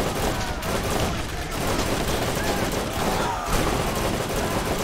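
Rapid, sustained gunfire from the Steel Mauler in Borderlands, in a wave-based arena fight in Moxxi's Underdome. Loud, dense bursts of shots run continuously throughout with no gaps.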